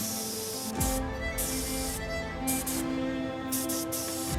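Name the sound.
spraying chocolate onto a dessert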